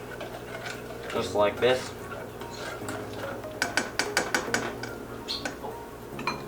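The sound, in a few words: mixing butterscotch pie filling until it thickens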